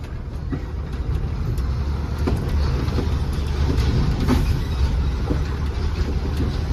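A vehicle heading down toward a warehouse, a steady rumbling engine and road roar heard close and continuous, with faint rattles on top.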